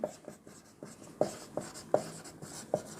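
Pen writing on paper during a maths lesson, with a series of close, crisp strokes and taps in an uneven rhythm and no speech over them.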